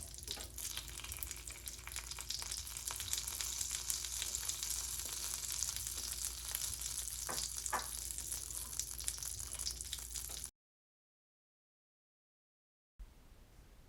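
Fish frying in hot mustard oil, a broad steady sizzle with faint clinks that runs for about ten seconds, breaks off into silence, then comes back briefly at the end.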